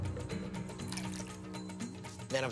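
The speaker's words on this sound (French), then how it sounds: "Je verse un peu d'alcool isopropylique." Isopropyl alcohol poured into a homemade disaster-preparedness barbecue, a steady liquid trickle and splash running close and continuous for about two seconds before a brief louder rustle at the end.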